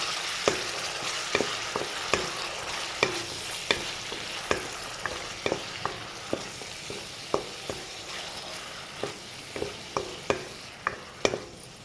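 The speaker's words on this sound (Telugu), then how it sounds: "ఇట్లా బాగా ఫ్రై చేస్తాం వన్ మినిట్ ఫ్రై చేస్తాం ఉల్లిపాయ పేస్ట్" Onion paste frying in a pan for fish pulusu, with a soft continuous sizzle under steady, rhythmic scraping and tapping of a spoon against the pan, close and without speech.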